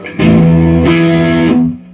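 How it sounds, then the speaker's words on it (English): A Squier Classic Vibe '60s Jazzmaster on its single-coil front pickup sounds a sustained, buzzy overdriven chord, struck again partway through, then fades, with a steady low 60-cycle hum underneath throughout. "it's got the typical 60 cycle hum that"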